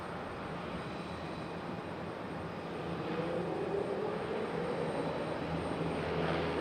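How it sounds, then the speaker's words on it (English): An ATR turboprop airliner arrives at Raleigh-Durham airport on a flight from Wilmington, North Carolina. Its steady engine drone grows gradually louder and nearer under a broad wash of background noise. "And there's our second ATR coming in from Wilmington, North Carolina, out on the coast."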